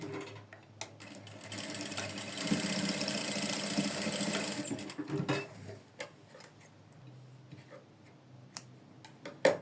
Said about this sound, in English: Then I'll now top stitch it round like this.